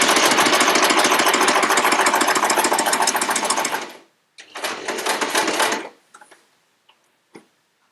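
A sewing machine stitching quilt blocks, running in a steady, rapid mechanical clatter for about four seconds, then a shorter second run, followed by a few faint clicks.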